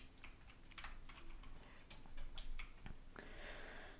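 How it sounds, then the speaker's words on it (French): A noisy new computer keyboard being typed on, with quick irregular clicky keystrokes in bursts, close and fairly loud, alone with no voices. "J'espère vraiment qu'on n'entend pas trop mon clavier parce que il est très bruyant, mon nouveau clavier."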